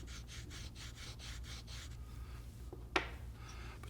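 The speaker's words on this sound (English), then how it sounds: "I'm also going to apply some compound here to the V-cut tool" Honing compound is rubbed onto a Flexcut carving tool strop in a rapid, even series of soft rasping strokes, close and quiet, that stops and gives way to a single sharp tap near the end.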